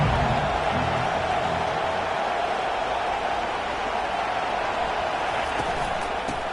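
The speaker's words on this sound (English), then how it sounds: "this crowd trying to help keep them there" A stadium crowd at a USC versus Ohio State college football game makes a loud, steady roar that fills the space without letting up.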